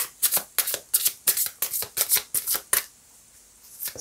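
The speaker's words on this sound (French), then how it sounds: "je vais essayer de tirer encore une carte" Tarot cards handled and shuffled from a deck in a rapid, regular run of crisp, close flicks and slaps that stop abruptly, followed by near silence and one last soft card sound.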